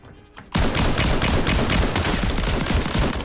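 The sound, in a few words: gunfire in a video game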